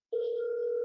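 A steady electronic ringback tone heard while a phone call is being placed, one sustained tone that starts abruptly, loud and close, with no voices over it.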